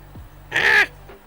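A person gives a single loud, harsh, crow-like squawk straight into a close microphone, a brief voiced burst imitating a bird call, with only faint room noise around it.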